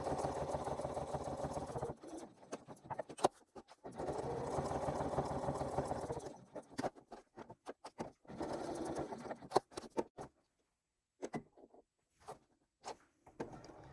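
A sewing machine stitches a slip pocket in fast whirring bursts, running steadily for a few seconds, pausing, then running again before breaking into short stop-start spurts near the end.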